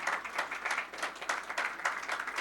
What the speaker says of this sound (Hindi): उसके लिए जोरदार तालियां बजाएं